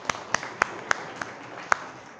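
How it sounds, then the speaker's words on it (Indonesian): A classroom of students applauds during an art lesson, a few sharp scattered claps with gaps between them, close and fairly loud, fading out by the end. "tepuk tangan"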